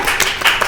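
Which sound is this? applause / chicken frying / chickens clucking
applause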